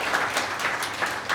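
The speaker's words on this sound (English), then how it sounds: "That could be the peak of the applause" Audience applause at a book release event at a rural cultural center, with steady dense clapping from a crowd that rises in periodic swells, close and loud, with no voices over it.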